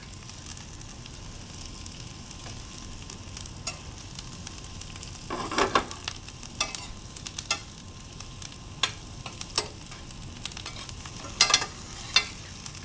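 Onions and garlic fry in browning butter, giving a steady, close sizzle broken by scattered crackles and pops, with no talking.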